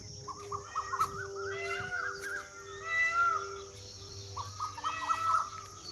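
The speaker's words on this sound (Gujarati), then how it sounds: "કોયલ બોલે" An Asian koel calling outdoors after a monsoon storm: a series of repeated rising, whistling calls, fairly faint and distant.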